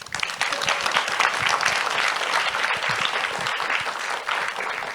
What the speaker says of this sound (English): Please give a round of applause to our speakers.